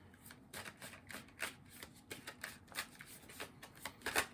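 Rapid, irregular riffling and flicking of tarot cards, a run of soft crisp snaps and bursts at close range, fairly quiet with no voices.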